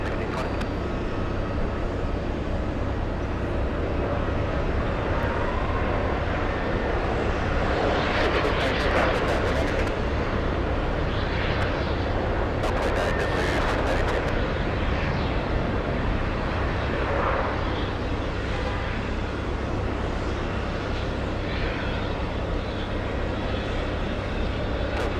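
A fixed-wing airplane exits the runway at Boston Logan International Airport, its engine a steady broad roar with low rumble that holds loud and constant, some brief brighter swells partway through, and faint voices underneath.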